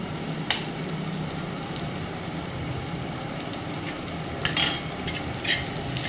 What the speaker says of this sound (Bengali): যে তাওয়াতে আমি পরোটা বানিয়েছিলাম, ওই তাওয়াতে আমি ডিমের ভুজিয়াটা করে দিচ্ছি।